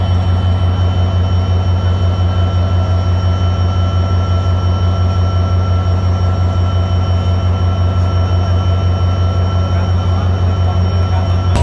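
A train pulling out of Ishwardi Junction station gives a loud, steady rumble with a constant hum and rolling rail noise, continuous and close, without voices.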